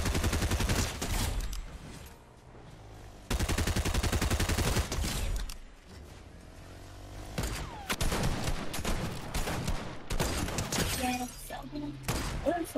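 Sniper rifle fire and impacts ring out in Fortnite as sharp, loud cracks and bursts scattered through the match, with brief quieter gaps between shots.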